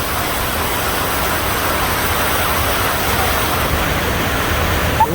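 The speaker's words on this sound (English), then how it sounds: "here we can see the water rushing through" Rushing river water pours through a rocky gorge in Girdwood, Alaska, a constant, close, dense roar that holds steady from start to finish with no talking.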